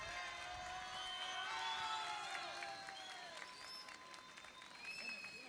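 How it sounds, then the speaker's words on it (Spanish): Audience clapping and cheering at an outdoor Río Gallegos festival for its 140th anniversary, sustained moderately distant applause with whistles and shouts from the crowd, fading slightly toward the end. "Y los aplausos de Río Gallegos para Karma"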